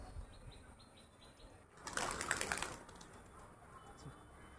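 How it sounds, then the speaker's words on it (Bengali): Pigeons from a backyard loft burst into flight with a short flurry of flapping wings lasting about a second, close by and moderately loud, with faint chirps around it. "পায়রা দেখো উঠছে"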